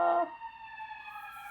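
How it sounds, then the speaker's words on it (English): The siren of a passing emergency vehicle wails at a distance, a steady tonal whine that holds faint and even after a louder onset. "there's a siren going by"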